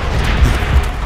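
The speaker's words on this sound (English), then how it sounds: "Time to call in my artillery." Deep booming blasts from an artillery strike in the video game Call of Duty: World at War, two heavy low thuds rolling through a dense, loud rumble in a short burst.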